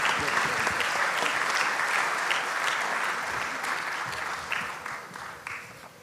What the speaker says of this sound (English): please do keep your applause going for Nihole Medvedeva